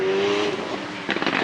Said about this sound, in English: We've got more cars coming in,